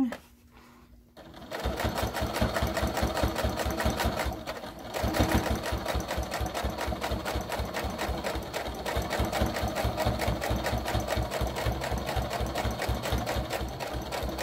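A sewing machine stitches a fabric makeup brush holder, running as a fast, continuous mechanical whir close by after a brief pause at the start, with a voice talking over it.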